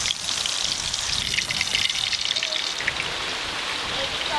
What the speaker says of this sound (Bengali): কত জোরে বৃষ্টি আসছে